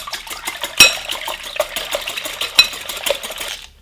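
Eggs beaten with salt in a bowl: a fast, steady run of close whisking clicks against the bowl, with two louder knocks among the quick rhythmic strokes.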